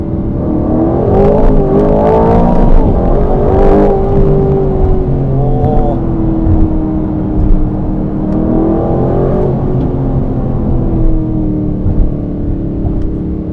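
An Aston Martin Vantage accelerating hard on Tokyo streets and spinning its wheels, its loud engine rising and falling in pitch through gear changes, heard from inside the car.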